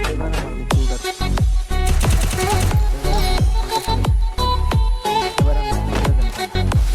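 Gunfire from the video game Free Fire cracks in loud, sharp bursts, sometimes in quick strings, over busy game music that plays throughout.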